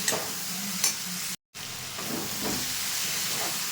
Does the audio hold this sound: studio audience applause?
no